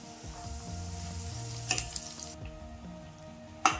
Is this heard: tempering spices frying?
yes